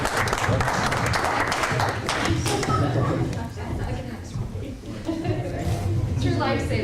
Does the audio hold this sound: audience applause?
yes